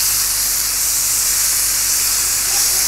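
Bacon sizzles on a Pit Boss table top griddle with both burners on high, a loud, steady hiss and crackle of frying fat that fills the whole stretch without pause or voices.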